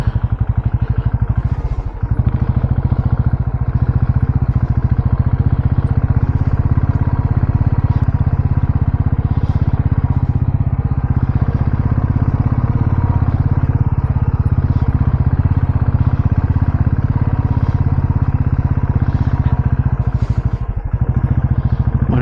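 A single motorcycle engine drones loud and close for the whole stretch on a rain-wet road near an ancient temple, with a steady low rumble and faint clatter and no clear rise or fade.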